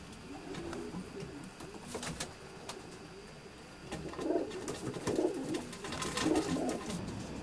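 Pigeons in a loft holding widowed hens and young birds, soft repeated cooing that grows a little louder toward the end, with faint rustles and clicks in the background.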